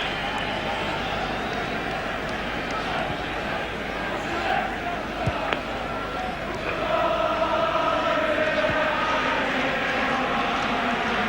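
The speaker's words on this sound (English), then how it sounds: "Liverpool crowd breaking into song again" Liverpool supporters sing in the stands at the 1977 European Cup Final against Borussia Mönchengladbach. The chanting is a broad, steady roar from a large crowd, with a commentator talking over it.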